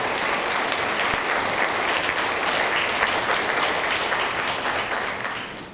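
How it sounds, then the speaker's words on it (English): A school audience at a sixth-grade awards event gives a loud, sustained round of applause for two organizing teachers, dense clapping from many hands that holds steady and then begins to taper off at the end. "So let's give them a round of applause."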